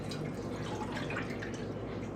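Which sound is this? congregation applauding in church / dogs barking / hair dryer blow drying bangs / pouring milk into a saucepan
pouring milk into a saucepan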